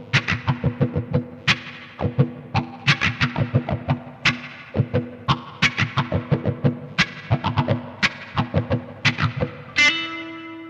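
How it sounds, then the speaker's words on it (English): Electric guitar through a wah pedal, muted strings strummed in a funky choppy rhythm with the sweeping wacka-wacka tone, interspersed with sharper chord stabs, played alone and ending on a ringing chord. "By muting the strings with your fretting hand while strumming, you can get the classic wacka-wacka sound that wah's known for."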